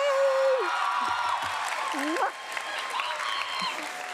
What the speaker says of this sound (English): Let's applause for Kaylee